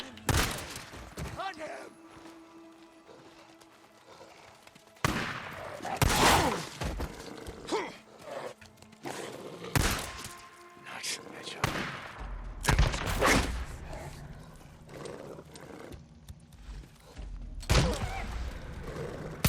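Gunfire in the video game Days Gone, with bursts of shots and impacts coming in several clusters across the clip, loud and close, mixed with other game effects and a voice reacting.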